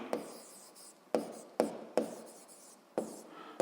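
A pen writes notes by hand for a seventh-grade physics problem, heard as quiet scratchy strokes broken by several sharp taps as the pen meets the paper, close up with no speech.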